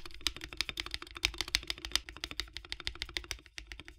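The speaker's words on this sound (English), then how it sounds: "So with lubed switches and stabilizers, this board sounds and feels great." Rapid typing on a Ducky One 3 SF 65% keyboard with lubed switches and stabilizers, a close, fairly quiet stream of muted clacks in an uneven rhythm with no talking.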